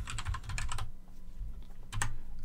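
Rapid typing on a computer keyboard, close and clear, in two quick bursts of key clacks separated by a brief pause, with no voices.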